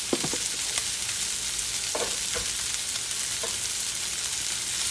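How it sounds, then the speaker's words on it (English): Green onion frying in oil for kimchi fried rice, a steady bright sizzle with a few stirring clicks and scrapes in the pan, close and continuous. "I'm gonna add green onion."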